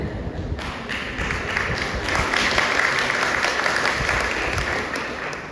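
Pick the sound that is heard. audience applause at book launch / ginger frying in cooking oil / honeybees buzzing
audience applause at book launch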